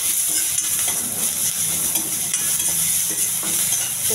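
Peas fry with curry leaves, chopped onion and green chili in a pan, making a dense, constant hiss at close range with soft stirring scrapes mixed in.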